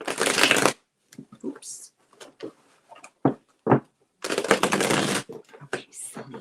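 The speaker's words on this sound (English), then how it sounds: "These cards don't want to be shuffled" Playing cards shuffled on a table: two dense riffling bursts at the start and later, with scattered taps and card handling between them and a brief spoken word.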